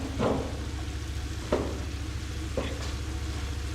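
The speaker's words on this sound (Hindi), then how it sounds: "अब यहाँ पे अच्छा सेक लग रहा है और टमाटर भी फ्राई हो गए हैं" Tomatoes and masala frying in a pan for achar gosht, giving a low steady sizzle broken by a few stirring scrapes, fairly quiet and without talk.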